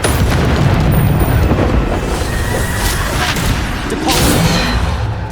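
The Bombardo explosion spell in the Hogwarts Legacy video game bursts with a loud, dense rumbling blast and crackling debris, sustained at full level throughout with a couple of sharper impacts mixed in.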